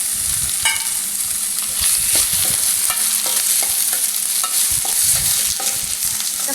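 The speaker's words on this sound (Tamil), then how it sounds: "தக்காளி நல்லா வதங்குற வரையும் நல்லா வதக்கிக்கணும்." Chopped tomatoes sauté in a pan for paneer masala gravy, a loud continuous sizzle broken by frequent scraping and tapping strokes of a spoon stirring, close up with no talking.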